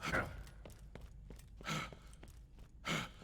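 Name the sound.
heavy breathing of the player character in Borderlands 2 video game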